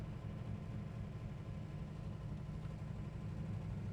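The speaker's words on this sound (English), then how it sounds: "There's no spitting, sputtering, wanting to stall out. Idle's nice and smooth." A 1969 Plymouth GTX 426 Hemi engine idles at a traffic light with a steady, smooth, low rumble and no sputtering, holding continuously at a moderate level.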